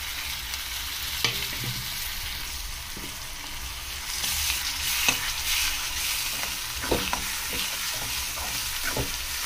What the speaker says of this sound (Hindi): एक मिनट मैं इनको भून लूंगी,